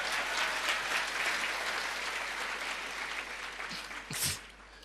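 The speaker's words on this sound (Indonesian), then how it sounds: "Beri tepuk tangan itu betul." Steady applause from a church audience, dense clapping that fills the room and tapers slightly toward the end, with a brief louder bump near the close.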